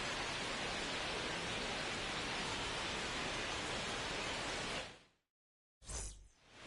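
Steady broadband rain hiss fills a baseball stadium in MLB The Show 26, constant and loud before cutting out abruptly and returning briefly.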